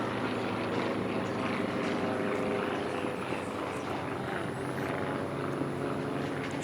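Formula One class racing airplanes at the Reno air races, a steady loud droning roar of propeller engines sustained throughout with no pauses, like a race pass heard from nearby.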